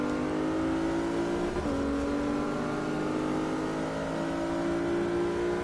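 A racing car's engine drones and revs steadily at a race start in the driving game Forza 6, a loud, continuous, layered motor tone with slight pitch shifts and no talking.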